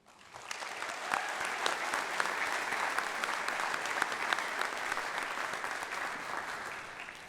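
Sustained applause from an audience at a university honors convocation greeting new Kappa Delta Pi and Psi Chi honor society inductees, steady and full throughout with scattered sharper claps, fading slightly at the end.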